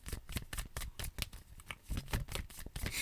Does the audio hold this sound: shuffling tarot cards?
yes